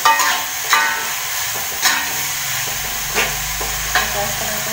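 Eggplant being stir-fried in a pan, a steady sizzle with a few sharp scrapes and knocks from stirring at irregular intervals, close and alone with no talking.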